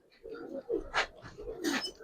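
Giribaz pigeons in a loft give a few soft, low cooing calls, close and moderately loud, with brief rustles between them.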